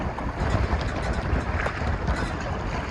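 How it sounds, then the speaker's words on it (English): Steady, loud wind roars across the microphone in a rumbling, buffeting rush of noise with no clear breaks. "the wind gusts up as hard as can be"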